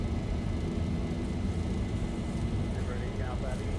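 Steady roaring engine noise of a heavily loaded cargo jet on its takeoff roll in the X-Plane 11 flight simulator, a continuous broadband rumble at even loudness with no clear change.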